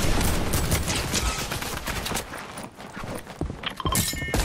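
Shotgun blasts crack through a chaotic video game shootout, dense bursts of loud gunfire and impacts piling up over constant busy game noise.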